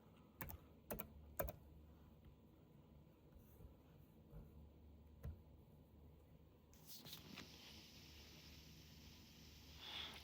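Typing on a computer keyboard on a Windows 11 PC: a few sharp, separate key clicks near the start, then quieter, scattered tapping over faint background hiss.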